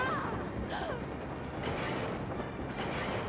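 Trains rumble heavily in the video game Skies of Arcadia Legends, a dense, continuous mechanical roar with grinding, screeching overtones and no pause.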